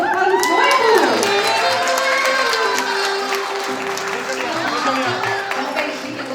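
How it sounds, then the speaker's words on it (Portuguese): Wedding guests at a religious ceremony clap and cheer for the bride and groom, a loud burst of applause mixed with shouts, whoops and voices that carries on for several seconds. "Palmas para os noivos"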